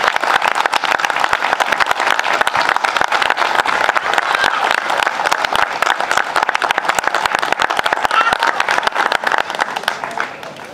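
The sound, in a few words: audience applauding the municipal band and its director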